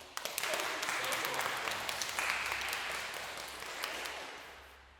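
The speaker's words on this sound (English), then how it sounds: "So an applause for Benjamin." Applause from the audience at a soprano masterclass in Italy, a steady wash of clapping that gradually fades away over several seconds.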